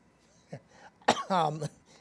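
A person coughs sharply once, then clears their throat with a rough, drawn-out rasp, close and fairly loud against a quiet room.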